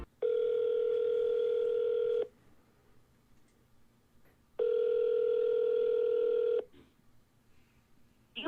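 Two long telephone ringback tones sound through a phone line, each a steady buzzing purr lasting about two seconds, separated by a pause of faint line hiss.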